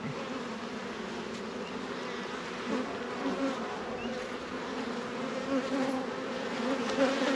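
Honey bees buzz steadily around an open home hive during a weekly inspection, a dense, continuous drone of many wings heard close up with no voices.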